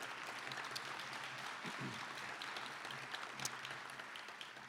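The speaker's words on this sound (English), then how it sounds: "I want to give them one more round of applause." Luncheon audience applauding table hosts at a benefit event, a steady spread of clapping from a roomful of people, moderately distant and without talk.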